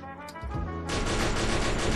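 Rapid bursts of game gunfire start abruptly after a low rumbling intro, loud and dense, firing continuously to the end.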